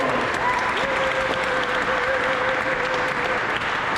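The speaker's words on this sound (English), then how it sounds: "Big round of applause for Grindline too." A crowd at a community meeting for a skatepark builder applauds in a steady, dense wash of clapping that continues without a break, with a voice faintly rising over it.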